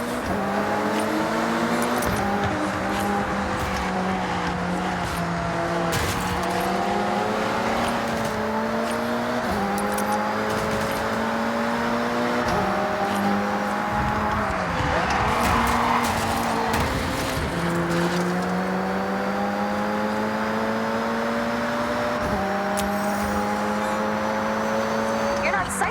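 Race cars tearing through a race in the game Forza Horizon 6: loud engines rev and climb through repeated gear shifts, with occasional tire noise, while people talk over the steady roar.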